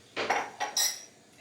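Ceramic mug and dishes clink together in a home kitchen during a day of canning pears, several sharp bright knocks in quick succession followed by a quieter tail, fairly close and with no talking.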